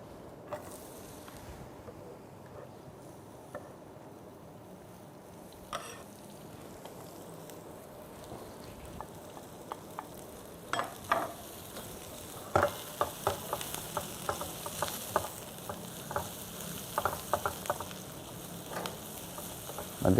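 Onions frying in hot oil hiss in a low, steady sizzle that grows busier with popping crackles and faint stirring clatter toward the end, quiet and close, with no voices.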